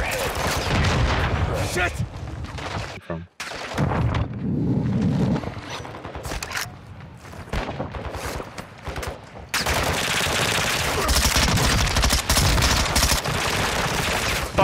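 Rapid gunfire in Call of Duty DMZ, dense bursts of automatic shots and heavy cracks that pause briefly and then resume at full loudness, with a player's voice cursing over the shooting.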